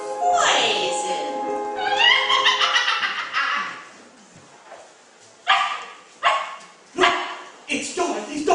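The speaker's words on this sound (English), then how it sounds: "It's Dorothy's dog!" Dog barks in a stage production of The Wizard of Oz, several short sharp yaps in a quick burst after a stretch of theatrical voices and singing, moderately loud on stage.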